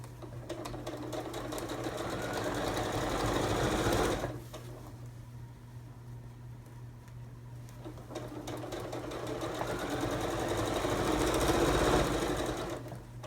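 A sewing machine stitching a cushion cover runs in a steady, close mechanical whir, stopping briefly for a few seconds partway through before starting up again and continuing at an even pace.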